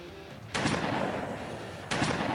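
Two loud, close gunshots ring out about a second and a half apart while zombies are shot in the Zombie Hunter video game, each followed by a short echoing tail.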